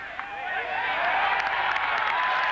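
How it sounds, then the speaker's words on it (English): A big golf gallery at the 1989 US Open final round, lined ten deep along a par-4 fairway, rises into sustained applause and an ovation for Curtis Strange, a dense, steady roar of clapping and cheering. "the ovation as Curtis moves up the fairway is going to be absolutely sensational"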